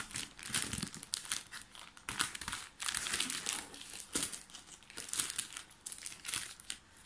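Crinkling and crumpling of plastic packaging as a parcel of shoes is opened, in repeated bursts of rustling and tearing, close and fairly quiet, with no voices.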